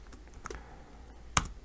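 Typing on a computer keyboard, a few soft, close key clicks followed by one sharper, louder keystroke near the end, quiet and without talk.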